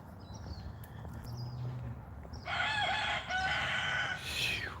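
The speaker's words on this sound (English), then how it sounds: "Never knew chickens make so much noise." Chickens cluck and a rooster crows loudly and close by, the calls bursting out in the second half over a steady outdoor background.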